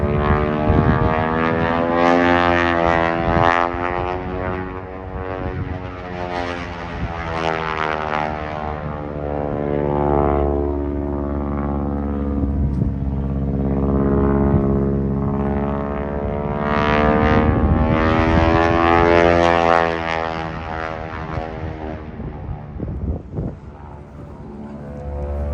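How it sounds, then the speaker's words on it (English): A biplane's propeller engine rolling through a barrel roll at the Oshkosh airshow, a loud sustained drone whose pitch rises and falls as the aircraft turns, nearby and steady for the whole stretch. "The biplane is doing a barrel roll."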